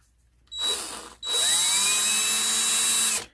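Power drill on its slowest speed spinning a hole saw during a kitchen renovation, one short burst followed by a longer steady whine with a high pure tone, loud and close, with no voices.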